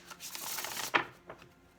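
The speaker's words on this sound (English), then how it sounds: "This will be our last shuffle." Tarot cards being shuffled during a Sagittarius reading, a soft papery riffling that builds and ends in one sharper snap near the middle, quiet and close with no talking.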